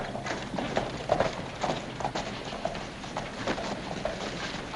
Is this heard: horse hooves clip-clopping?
yes